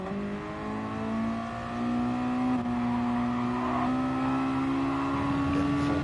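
A Mazda touring car in a racing video game accelerates at full power down the straight at Spa, its engine note climbing steadily and loudly through the gears without any voices.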